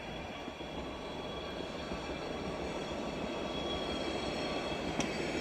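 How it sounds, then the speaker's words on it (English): A train rolls past in a snowy outdoor setting, producing a steady, continuous rumble with faint wheel squeal. It sits at a moderate distance, and a brief metallic click sounds near the end. "There's a train."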